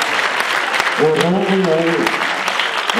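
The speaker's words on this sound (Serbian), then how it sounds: "Još jedan aplauz za omladinski ansambl Doma kulture Sirac." Enthusiastic audience applause for a youth folk dance ensemble from the Sivac culture house at a New Year's folk gathering: dense, steady clapping from a crowd, with a voice speaking over it.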